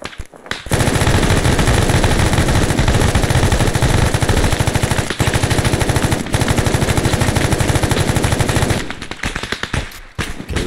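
Sustained automatic gunfire in the military video game Arma 3, loud, rapid and continuous bursts for most of the stretch before cutting off, with brief gaps between volleys.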